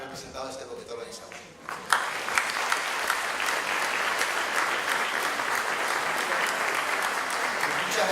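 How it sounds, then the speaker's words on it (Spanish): An audience breaks into sustained applause for an event's organizing committee, the clapping starting abruptly after a short stretch of talk and continuing densely and steadily to the end. "quisiera además que le demos un aplauso al comité organizador y a Scarlett"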